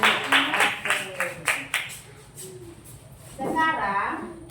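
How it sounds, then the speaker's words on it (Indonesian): A classroom group claps for a man, a short burst of applause at first that fades, followed by people talking and a voice speaking over the room. "Berikan tepuk tangan dulu untuk Bapak"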